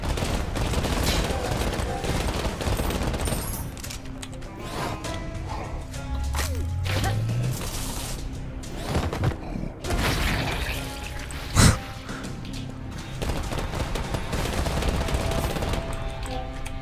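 Sustained automatic gunfire cutting down enemies in the action game Bombshell, rattling bursts mixed with impacts and a sharp crack near the middle, set against game music and a voice speaking at times.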